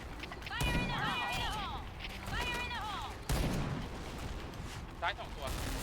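Rapid M4A1 rifle fire in the game Point Blank comes in sharp, repeated bursts between tonal game effects, and someone talks over it throughout.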